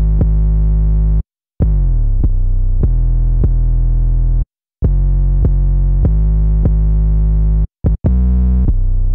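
Long plugg-style 808 bass notes in a simple pattern, loud and alone, each hit gliding slightly in pitch with brief gaps between phrases.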